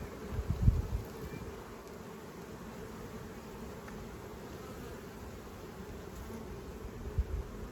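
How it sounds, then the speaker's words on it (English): Honey bees buzz steadily around a colony with two hive entrances in a botanical garden, a dense continuous drone of many insects close by, with a couple of faint bumps and no voices. "these could be just bees that are working the whole colony as one, and they've got two entrances"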